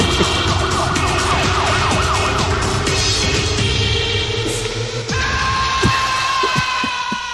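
A siren wails through a dense, loud mix of music and noise, sweeping up and down repeatedly without pause.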